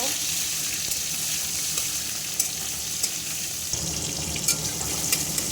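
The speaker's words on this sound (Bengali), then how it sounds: "কুচিয়ে রাখা টমেটো টমেটো একটু ভাজা ভাজা করে নেব" Chopped tomatoes fry in a pan with cumin, cloves, cardamom and cinnamon for a soybean curry, giving a steady sizzle with occasional sharp clicks of stirring throughout.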